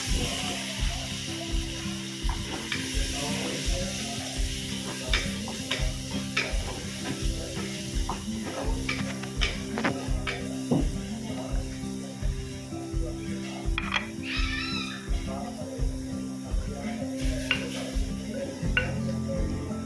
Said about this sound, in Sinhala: දැන් මම යන්නේ සොයා මීට් එකේ ටෙම්පරාදුව හදාගන්න.